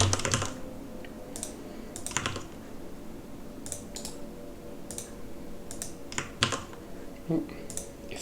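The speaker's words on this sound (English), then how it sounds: "we'll just go ahead and type it in" Scattered bursts of typing on a computer keyboard, short clusters of crisp key clicks separated by pauses, close and moderately quiet with no talk over them.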